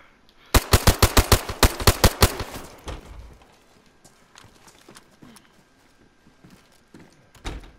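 A rapid burst of automatic gunfire sprayed from a gun in a video game, about a dozen sharp close shots in quick succession, followed by quieter scattered sounds and one more faint shot.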